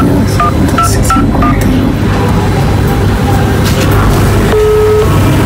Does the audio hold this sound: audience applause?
no